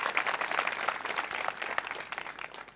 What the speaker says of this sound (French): Je veux que vous fassiez un tonnerre d'applaudissements pour les membres du jury qui sont avec nous ce soir.